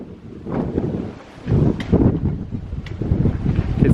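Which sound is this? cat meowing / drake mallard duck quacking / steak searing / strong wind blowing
strong wind blowing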